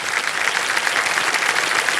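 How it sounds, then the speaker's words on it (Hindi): Studio audience on the KBC quiz show bursting into dense, steady applause after a contestant wins a bonus, a brief uninterrupted wash of clapping with no talk. "ताली बज जाए"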